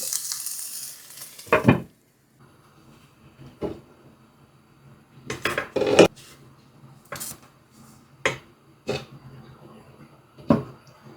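Eggplant roasting in a covered pan on medium-low heat, a faint sizzle between loud bursts of knocking and scraping as the pieces are turned, with clattering at intervals.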